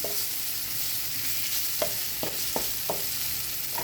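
Kandol sizzles and fries with grated coconut on a hot tava, a dense steady hiss broken by a few sharp scraping stirs of a spatula.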